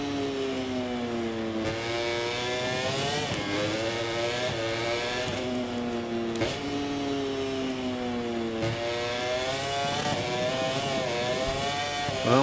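A MotoGP racing motorcycle engine from MotoGP 24 screams through repeated rising and falling revs, with sharp gear shifts and throttle changes during a lap at a winter test, loud and continuous with no voices.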